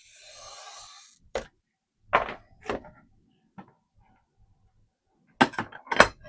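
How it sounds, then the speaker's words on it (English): A sliver of stained glass is scored and snapped by hand: a soft scratch at the start, then a few sharp, isolated clicks and snaps spaced out over quiet pauses. "just take off another sliver of glass so we can continue on"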